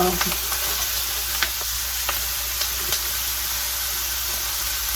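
Ground beef sizzles and fries in two frying pans with a steady, close hiss, broken by occasional light scrapes and taps from stirring.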